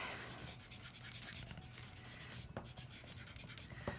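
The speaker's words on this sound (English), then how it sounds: "you're gonna get to go back and erase all your pencil line" An eraser rubbing out pencil lines on paper, a soft, continuous scrubbing with uneven back-and-forth strokes and a few brief louder scrapes, close and quiet, with no one talking.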